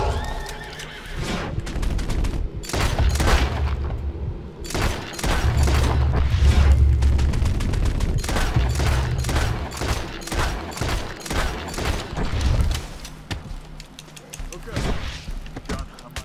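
Rapid, repeated gunfire from the Red Dead Redemption 2 video game, loud and dense volleys of shots across the whole stretch, mixed with horse whinnies and heavy low rumbling game noise.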